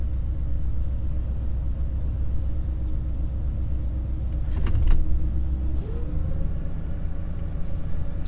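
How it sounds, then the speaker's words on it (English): A 1956 Pontiac Star Chief V8 idles fast on an electric choke, giving a steady low rumble close by, with a brief clatter midway and a faint rising whine near the end. "Still on a fast idle."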